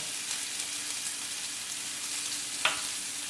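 Pork chop sizzling in a hot cast iron skillet, a steady dense hiss of frying throughout, with one brief sharp clink near the end.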